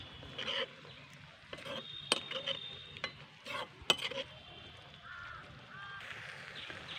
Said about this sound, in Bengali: এটাকে দিয়ে আমি আবারও দুই তিন মিনিট কষিয়ে নেবো